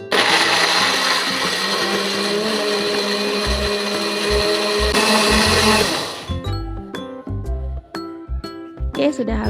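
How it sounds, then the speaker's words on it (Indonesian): An electric blender grinds shallots and curry leaves with a loud, dense roaring whir for about six seconds, then stops, followed by clinks and clatter of kitchen utensils and someone speaking. "ini bahan tadi kita haluskan semua"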